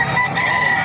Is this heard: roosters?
yes